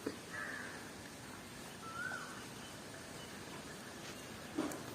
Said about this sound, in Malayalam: എന്നാ കാക്കേ ബാ